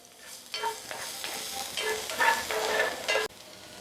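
Onion and garlic hit hot oil in a pan and are stirred, giving a bright crackling sizzle with scraping that swells and then cuts off abruptly.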